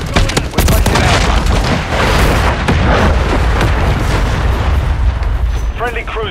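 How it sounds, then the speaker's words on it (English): Cruise missile strikes in Call of Duty MW3, a loud burst of heavy booms and blasts that rolls into sustained explosive rumble, with game voice callouts over it. "Friendly cruise missile deployed."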